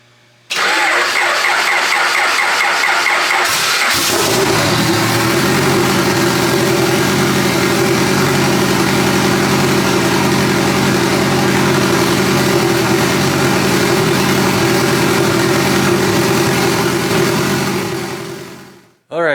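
A Honda Civic with a turbocharged H22 engine cranks and catches after a few seconds, then settles into a steady, loud idle that runs on for the rest of the clip.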